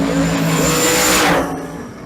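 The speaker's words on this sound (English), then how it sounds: "Both rides spooling up the turbos" Two turbocharged drag race cars build boost at the line before launching down the quarter mile at Twin Cities Raceway, a loud sustained engine roar and whine that peaks and then eases off.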